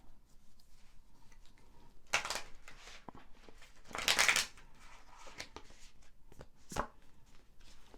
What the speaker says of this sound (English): And one more shuffle.